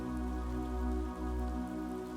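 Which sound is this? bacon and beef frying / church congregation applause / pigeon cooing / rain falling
rain falling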